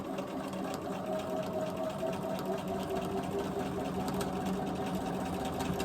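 A sewing machine runs steadily while free motion quilting a straight line for a feather design, its rapid mechanical stitching hum close and continuous throughout, with no talking.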